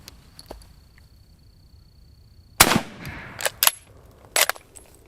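Three sharp rifle shots from a 1944 Lee-Enfield No4 Mk1 at an outdoor range, the first loud crack with a trailing echo, followed by two more spaced shots about a second apart, with faint clicks before them.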